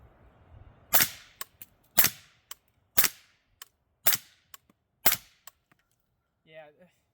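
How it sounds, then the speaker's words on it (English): A suppressed Noveske 10.5-inch 300 Blackout rifle firing Ammo Inc 220-grain rounds: five loud, sharp shots at a steady one-second rhythm. Each shot is followed by lighter mechanical clicks, and a brief voice comes at the end. "I'm pretty sure I shot more than 5 rounds there."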